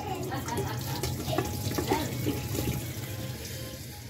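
Hot water runs from a kitchen tap in a steady close splash, with a person's voice briefly heard over it.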